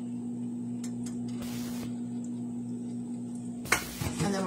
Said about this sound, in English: we're just going to stir that up as well and get it all incorporated